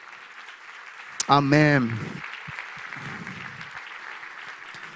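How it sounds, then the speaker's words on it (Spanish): Church congregation applauding after a sermon, a steady wash of clapping that runs under a loud sung-out voice near the start, then continues more softly with a few other voices. "Dale un aplauso al Señor, Rosica."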